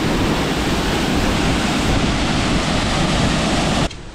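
Steady, loud roar of rushing water, broadband and continuous, like a nearby waterfall pouring without pause until it drops off abruptly at the end.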